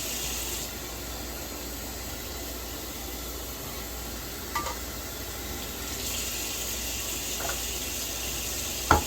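Tap water runs steadily into a slow cooker pot holding beans and ham hocks, a continuous hissing fill with a faint clink near the end.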